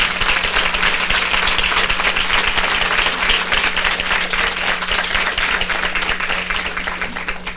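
A crowd applauds loudly and steadily at a panel on healthcare access for children with immunodeficiencies, dense clapping that holds throughout and fades a little at the end.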